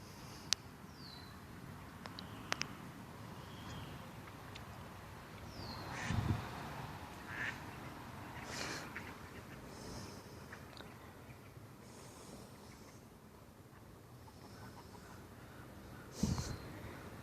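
A duck hen chuckles with a few low, soft calls spread apart, set against quiet outdoor ambience beside a creek, with occasional faint bird sounds.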